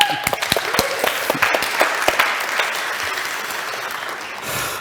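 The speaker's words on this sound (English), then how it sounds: "So let's give another round of applause for IVRPA." Audience applause at an IVRPA virtual tour photography conference in Belfast, a dense roomful of clapping with sharp individual claps early on, holding steady before easing toward the end.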